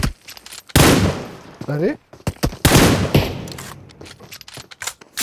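Rapid bursts of gunfire from a battle royale video game custom match, loud and close, in clustered volleys with short gaps, while a commentator talks excitedly over the shooting.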